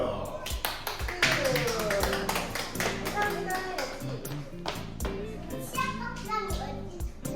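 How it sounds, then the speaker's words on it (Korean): Clapping during a profile photo shoot, with rapid, irregular hand claps and snaps mixed with ringing tones and a voice, staying fairly loud and busy throughout. "박수."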